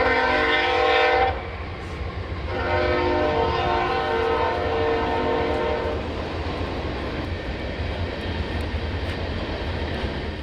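A train rolls through Marfa, Texas, sounding its horn in two loud blasts over a heavy rumble. The wheels and cars keep rumbling steadily after the horn stops. No voices are heard.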